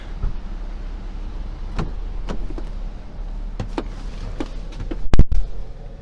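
Someone climbs into the driver's seat of a 2015 Dodge Durango, with soft rustles and scattered thumps and clicks from the seat and door close by, then a pair of louder knocks near the end, over a low steady hum.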